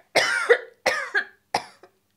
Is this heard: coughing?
yes